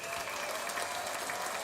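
A brief, dense burst of crowd applause, many hands clapping together in a steady, even wash with no voices over it.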